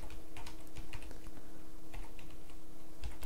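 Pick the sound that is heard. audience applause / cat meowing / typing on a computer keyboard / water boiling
typing on a computer keyboard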